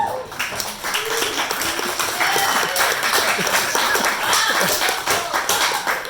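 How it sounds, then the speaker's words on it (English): Clapping from a comedy club crowd in a small bar venue, a sustained burst of many hands at close range with sharp individual claps standing out, and scattered voices and cheers underneath. "Clap if you're in love."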